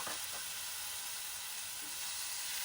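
Tomatoes frying in a pan for a cashew tomato curry, a faint, constant hiss of sizzling oil with no talking.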